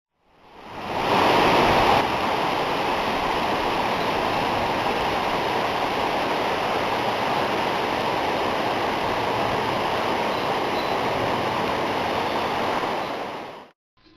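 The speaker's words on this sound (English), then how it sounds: "the river was once again back to the rapids" Rapids on the West Fork San Gabriel River roar in a dense, unbroken wash of rushing water, loud and close from start to finish with no voices.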